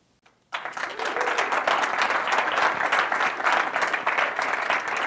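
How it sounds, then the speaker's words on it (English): Audience applause fills the room at an Ignite event at an entrepreneur center, with sustained dense clapping rising suddenly after a brief quiet start and staying loud and steady throughout. "Give him another round of applause."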